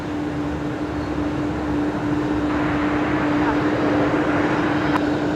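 Military tanker aircraft with a refueling boom taxiing along an airport taxiway, a constant jet engine rumble with a steady tonal whine throughout, while someone talks over it.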